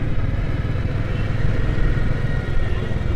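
A group of nineteen motorcycles rides along the Teen Bigha Corridor, a dense continuous engine rumble heard close by while riding.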